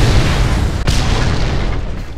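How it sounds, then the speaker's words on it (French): A game explosion from Mad Max rolls out as a loud, sustained rumbling boom with a sharp burst near the start, filling the whole short stretch with no talk. "une petite explosion nous aidera psychologiquement à nous remettre"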